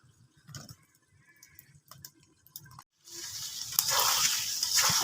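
Goat meat curry cooking down in oil, quiet scattered clicks and pops at first, then a steady, hissing sizzle that rises and continues alone.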